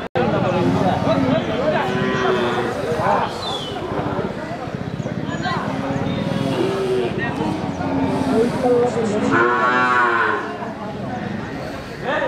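Calves at a cattle market give repeated loud, drawn-out moos from several animals at close range, with people talking throughout in a busy crowd.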